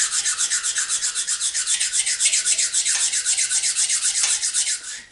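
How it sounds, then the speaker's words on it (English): Rhythmic rasping strokes of a flat face stone rubbed over metal milling machine parts on a Cormak ZX 7045 mill, steady back-and-forth scraping, close and loud, fading at the end. "I'm just going to give those a quick rub with a flat face stone."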